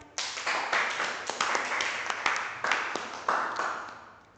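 A classroom of students clapping hands together, bursts of sharp claps in uneven rhythm that swell and fade repeatedly, fairly close and alone without talk.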